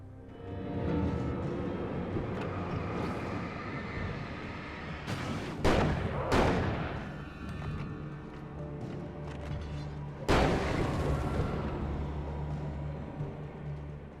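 In the Alan Wake video game, a flare gun fires and is followed by loud booming blasts. The sharp bangs come around the middle and again later, over a rumbling background.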